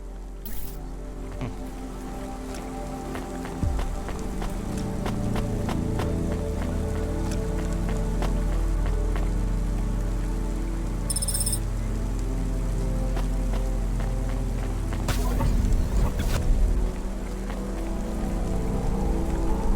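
Steady rain patters on surfaces in the neon city of the video game Cloudpunk, a constant wash with soft drips under a low ambient hum and occasional sharp electronic blips.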